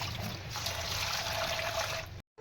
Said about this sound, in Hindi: अच्छी तरह 2-3 बार पानी से अच्छी तरह वॉश करेंगे दाल को